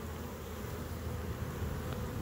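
Honeybees buzzing steadily at the hive during spring nectar and pollen flow, a dense continuous drone of many wings close by, with no voices.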